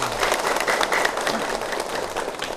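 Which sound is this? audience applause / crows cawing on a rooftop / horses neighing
audience applause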